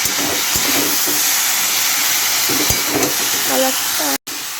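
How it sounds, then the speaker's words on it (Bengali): Fish head and vegetables sizzle and fry steadily in a pan, a continuous loud hiss with occasional stirring clatters, cutting out abruptly near the end. "মাছের মাথাটা দেওয়া হয়ে গেছে আর এখন এটাকে এটাকে ভালো করে একটু কষাবো"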